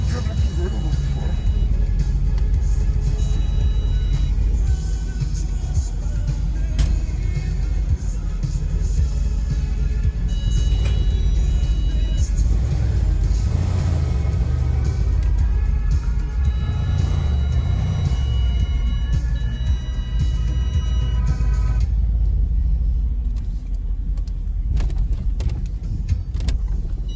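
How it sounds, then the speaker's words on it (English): A 500 hp Mercedes-AMG C63S convertible drives with the top down in Toronto, its engine a steady, deep rumble that holds for the whole stretch and fades somewhat near the end. "Listen to the snarl of this engine. It just wants to go."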